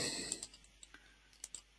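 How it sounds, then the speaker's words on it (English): Sharp mouse clicks on a computer button, several quick separate taps in an irregular rhythm, close and fairly quiet with nothing else around. "this time I'm going to be careful about how many times I click that button."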